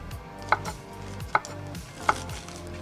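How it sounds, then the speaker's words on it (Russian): Three sharp knife chops through fresh herbs on a cutting board, evenly spaced and fairly quiet, over a faint background hum. "Так, зелень мы порезали"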